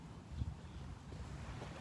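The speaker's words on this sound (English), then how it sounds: "Kind of windy here this morning." Morning wind gusting across a beach, buffeting the microphone with a steady low rumble and roar that swells briefly near the start, with no voices.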